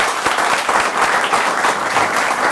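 Audience applause at a live show featuring Khaligraph Jones, steady dense clapping filling the whole stretch with no pauses.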